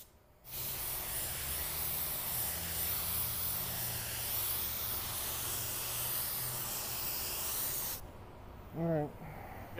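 A spray paint gun hisses continuously as it lays a light coat of sealer onto a car bumper cover, a loud steady spray lasting several seconds before cutting off abruptly, followed by a brief faint sound.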